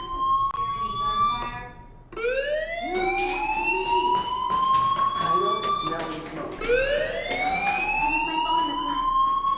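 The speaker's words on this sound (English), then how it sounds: "Hey, do you hear that fire alarm?" A school fire alarm in the game Life Is Strange blares in loud rising sweeps that restart after brief breaks, with sharp clatter and voices mixed in underneath.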